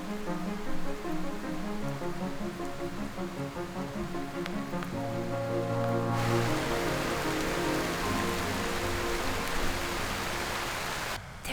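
Rain falling outdoors, a steady hiss of drops on surfaces that swells louder halfway through and continues evenly, heard over a faint tonal background.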